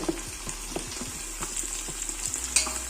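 Curry leaves, coriander leaves, green chillies and mint frying and being stirred in oil for a chicken biryani, a steady close sizzle broken by repeated soft scraping strokes of a spoon, with no talk.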